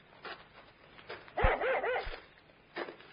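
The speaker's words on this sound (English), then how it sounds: "what's the matter with your dog?" Dog barking excitedly on a country road: a few sharp barks and yips with a brief whine, moderately close, separated by short pauses.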